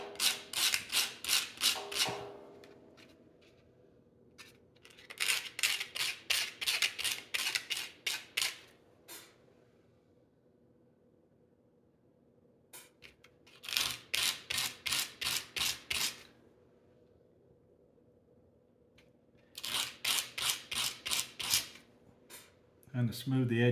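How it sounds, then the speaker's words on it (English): A banjo fret end is knocked and rubbed against sandpaper in repeated bursts of quick, crisp scratchy strokes, close and fairly quiet, separated by pauses of near silence. "just hit it on the end of the sandpaper."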